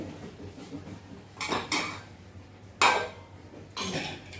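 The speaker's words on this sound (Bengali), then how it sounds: "এখন সব ঢেকে দিয়ে গ্যাসটা অফ করে দিচ্ছি।" Pots are covered with lids and a gas stove is switched off in a home kitchen, three or four distinct metallic clanks and scrapes of cookware against a quiet background, with no voices.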